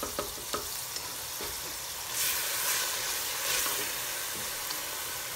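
Chicken curry with softened, mashed tomatoes sizzles in a pan on a high flame: a steady, close frying hiss that swells twice, with a few light clicks at the start.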